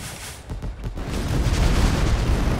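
Fireworks weapon exploding in the artillery game ShellShock Live, a loud booming burst that swells into a sustained roaring crackle.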